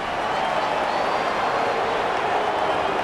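Simulated stadium crowd in the Madden 26 football video game, reacting angrily to a penalty with a dense, sustained roar of booing and shouting that stays loud and steady throughout.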